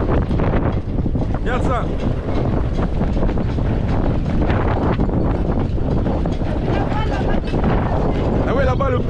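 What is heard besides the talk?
strong wind gusts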